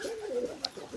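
Pigeons coo in a brief, soft, throaty warble, close and fairly quiet, with a small sharp click partway through.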